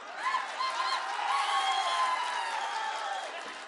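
A large crowd cheering at an AIADMK political campaign rally in Chidambaram, with sustained roaring, whoops and some clapping, a dense and fairly loud wash of voices throughout.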